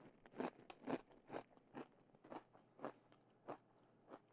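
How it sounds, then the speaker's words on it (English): Blue cheese being chewed close to the mouth: a steady run of about nine soft, crunchy bites and chews at a regular pace, fairly quiet and with no talk over them. "I have no idea how loud my chewing is for everyone right now."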